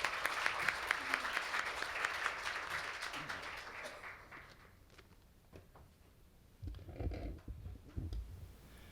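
Warm applause from a forum audience at a closing session, dense clapping that fades after a few seconds, with murmuring and shuffling following.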